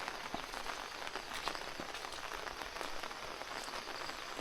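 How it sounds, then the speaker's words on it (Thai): Steady morning rain pattering on surfaces in a rural farming area, a continuous hiss with scattered distinct drops, no voices. "อันนี้เป็นบรรยากาศตอนเช้าเนาะฝนตก ฝนยังตกอยู่"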